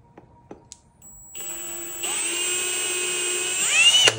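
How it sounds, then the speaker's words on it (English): A power drill spins up and bores into wood while building a wooden step stool, starting after a few light clicks, then a steady whine that rises and strains loudly near the end, close and alone. "And drill there."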